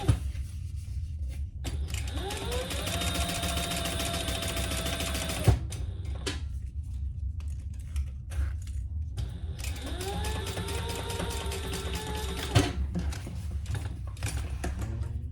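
A sewing machine top stitches a seam on a handmade holiday gift. The motor whirs steadily in two runs of several seconds, each rising in pitch as it speeds up, with a short pause and handling clicks between.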